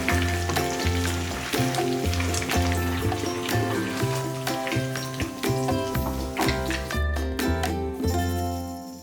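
Mutton pieces for Kolhapuri mutton pickle deep fry in hot oil, giving a loud, dense, unbroken bubbling sizzle heard up close for the whole stretch.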